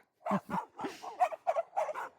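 Dogs barking in the horror driving game Death Drive, a quick run of about eight short barks and yips, close and fairly loud with no talk over them.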